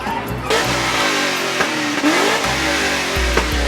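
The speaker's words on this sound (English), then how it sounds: "They rev it." At a car meet, a car engine revs repeatedly, loud and close, with rising and falling pitch sweeps and sharp throttle blips; a Camaro is among the cars present.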